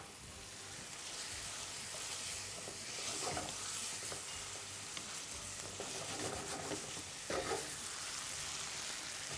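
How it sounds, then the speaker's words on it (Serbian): Roughly chopped mint sizzling in a frying pan with chicken drumsticks, a continuous soft hiss broken by a few stirring clatters, with no talking. "Nana se grubo iseče i stavlja se odmah u tiganj da pusti te svoje arome u samo jelo koje će piletina da upije."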